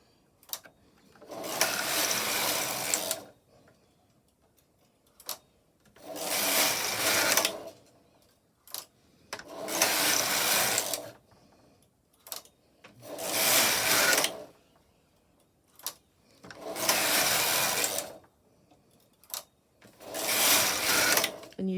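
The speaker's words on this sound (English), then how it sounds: "And you should see on the main bed some of the stitches are tucking as you knit" A Silver Reed knitting machine with ribber, knitting punch tuck rib: the carriage is pushed across the needle bed in six loud, whirring, rattling passes of about two seconds each, separated by short quiet pauses with soft clicks.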